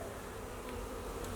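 A dense swarm of honey bees drones steadily and loudly at an open Flow Hive holding a recently installed package colony, with no talk.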